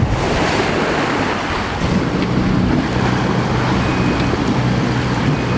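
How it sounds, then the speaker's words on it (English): Sailboat out on open sea in about 20 knots of wind, with loud continuous surf and wave wash mixed with gusty wind buffeting the microphone throughout. "So 20 knots of wind."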